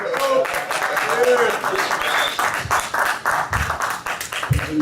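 An audience at a live show claps and cheers while a voice shouts over them, the applause close and lively with uneven bursts under the talk.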